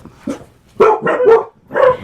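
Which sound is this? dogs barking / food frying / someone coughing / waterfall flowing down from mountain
dogs barking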